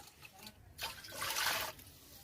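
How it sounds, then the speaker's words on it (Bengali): Five measured bowls of lightly warmed water being poured over rice in a pot for pulao, a steady splashing pour that swells and fades over a couple of seconds, close by, with no talk. "আমি বাটি মেপে পাঁচ বাটি জল দিয়ে দিচ্ছি"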